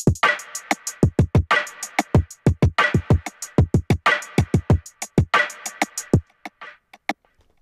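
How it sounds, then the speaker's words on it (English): A percussion loop made from hands drumming on the body of an acoustic guitar gives sharp, dry hits in a quick, syncopated pattern with brief pauses, close and clean with no voices. "This guy was playing drums on his acoustic guitar, and I just broke it up and sampled it."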